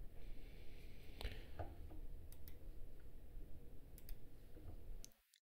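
Several sharp, quiet mouse clicks while a Live2D model's colors are edited, spread irregularly over a low steady hum with no talking.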